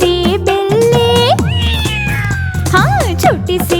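A voice sings repeated meow-like cries in a Hindi children's rhyme about a little kitten, over a musical backing, imitating a cat with rising and falling sliding notes.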